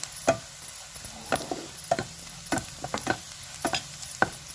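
Poha being cooked in a pan with turmeric and sugar, with soft stirring scrapes and light sizzling that come in irregular strokes about every half second, close by and fairly quiet.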